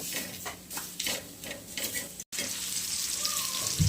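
Food fries in a pan for a spicy Maharashtrian dish, with rhythmic stirring scrapes over a quiet sizzle, a brief cut midway, then a brighter, louder hiss.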